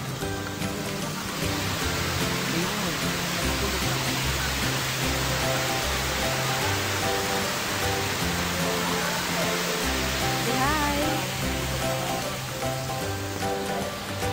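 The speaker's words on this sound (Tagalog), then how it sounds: "Hey guys, nandito na kami sa falls." Hinulugang Taktak waterfall in Antipolo gives a loud, steady wash of falling water, with crowd voices and faint music running underneath throughout.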